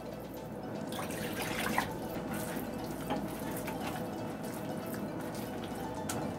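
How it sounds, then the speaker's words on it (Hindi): Water poured into a cooking pan holding chicken mince and soaked chana dal, a steady close splashing gush that runs without a break under a faint background hum, with no voices. "2 कप पानी ऐड करेंगे।"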